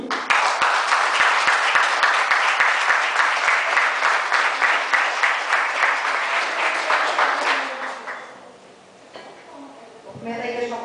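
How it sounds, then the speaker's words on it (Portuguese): Church congregation clapping in sustained, rhythmic applause for about seven seconds, loud and dense, then fading out, after which a voice begins speaking. "Vamos dar uma salva de palmas para Jesus agora."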